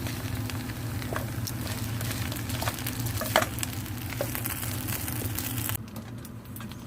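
Chopped bacon sizzles and fries in a pan for kimchi fried rice while it is stirred, a dense continuous crackle with scraping stir sounds throughout, close and fairly loud, easing off near the end; no talking.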